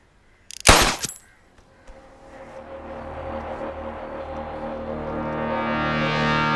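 In a scene from the haunted-treasure film Maragatha Naanayam, a short, loud burst of rapid gunshots rings out, then gives way to a swelling, eerie droning tone with no talk.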